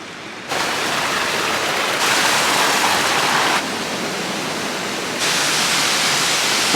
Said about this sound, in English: and we get to see a waterfall